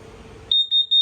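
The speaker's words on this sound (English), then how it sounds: "The little single beep is for LP." Three short, high-pitched electronic beeps from an LP gas detector in a 2024 Forest River Salem Hemisphere 308RL travel trailer, in a steady rhythm, loud and close, following a brief stretch of low background noise.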